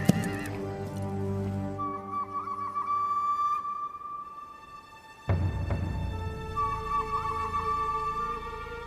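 Two horses whinny in drawn-out, quavering calls, one after the other, over a low rumble that may be hooves.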